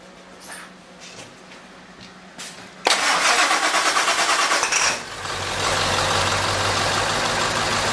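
An old 1946 Ford car engine cranks, catches with a loud burst, then settles into a steady rough idle, close by.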